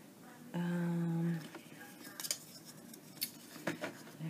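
Scissors snip through paper while a stationery set with a box is made from Prima Fairy Belle papers; a handful of short, crisp cuts come close up, scattered over a few seconds after a brief tonal hum.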